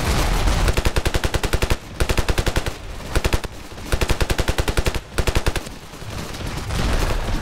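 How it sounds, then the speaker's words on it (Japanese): Rapid automatic fire in Ravenfield, a large-scale battle with 150 soldiers per side, arrives as loud, evenly spaced machine-gun bursts, several in a row with short gaps between them. "撃ってる撃ってる。"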